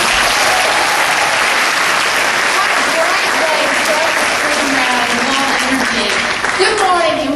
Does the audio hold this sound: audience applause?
yes